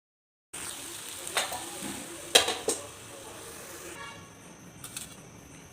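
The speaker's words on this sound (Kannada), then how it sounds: "ಇದು ಸ್ವಲ್ಪ ಆಯಿಲಲ್ಲೇ ಫ್ರೈ ಮಾಡ್ಕೋಬೇಕು" Food frying in a little oil in a village-style home kitchen gives a soft, steady sizzle, with a few sharp utensil clinks and scrapes against the pan.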